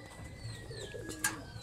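Low cooing from pigeons in a breeding loft, a continuous soft murmur with a brief sharp sound near the end over steady background hiss.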